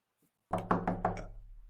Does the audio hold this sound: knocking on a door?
yes